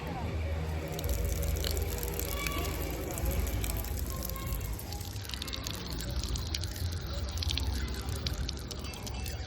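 Water splashes and drips as feet are washed at a temple water point, with continuous trickling and sloshing, scattered sharp drips and splashes, and people's voices and crowd noise mixing in throughout.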